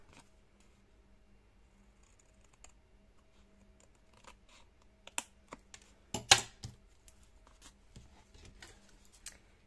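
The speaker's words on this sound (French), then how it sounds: "je vais tracer et couper à la ciseau" Scissors cut through a cardboard Kinder box in a series of quiet, close snips and crisp clicks, sparse at first and then clustering into a louder run midway.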